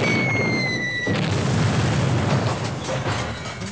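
A movie explosion bursts after a short high whistling tone, becoming a loud, broad roaring rumble that stays sustained for several seconds.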